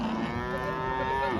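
Cow mooing at a livestock market in Kasba Tadla, one long, steady, low moo held close and clear throughout.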